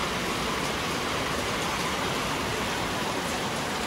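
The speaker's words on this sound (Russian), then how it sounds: "Я люблю дождь." Steady, dense rain pours down continuously over a residential courtyard after a spell of summer heat, a loud, even hiss with no voices or gaps.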